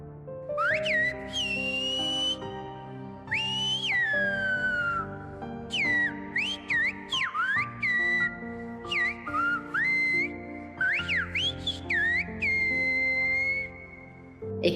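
Silbo Gomero, the whistled language of La Gomera, performed as a demonstration: loud, clear whistled phrases that glide sharply up and down in pitch, broken by short pauses, with no talking.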